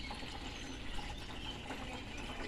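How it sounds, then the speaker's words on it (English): A small water fountain on a farm trickles and flows steadily, a constant close wash of running water with no voices over it. "There's water going through here."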